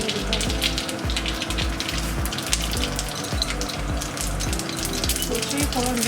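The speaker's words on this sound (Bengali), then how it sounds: "সর্ষেই ফোড়ন যায়, কারি পাতা," Mustard seeds and curry leaves temper in hot oil for dhokla, crackling and popping densely and loudly up close in a continuous spatter with no talk over it.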